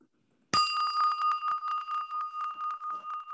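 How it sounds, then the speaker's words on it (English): A bright bell is struck once and rings out clearly, its tone holding steady and pulsing gently as it slowly fades, with nothing else audible. "I'm going to ring this bell."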